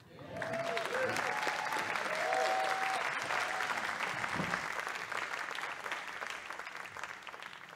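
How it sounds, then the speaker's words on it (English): A concert audience at a live world-music event applauds warmly and steadily, full and close for several seconds before slowly thinning out. "Clap it up for yourselves for being such an amazing audience"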